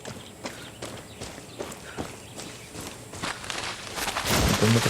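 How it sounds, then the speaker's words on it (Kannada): Horse hooves clip-clop at a steady walking pace in the video game Far Cry 6, each hoof strike sharp and close, with ambient game sound rising toward the end. "ಕುದುರೆ ಇದೆ ಕುದುರೆ ಇದೆ"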